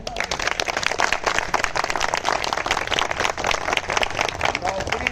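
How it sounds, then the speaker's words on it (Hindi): Crowd at a speech outside the gate of a secondary education service selection board gives a sustained, dense patter of clapping that fills the whole moment without a break. "नौकरी मिलने के नाम पे इतनी कमजोर तालियां।"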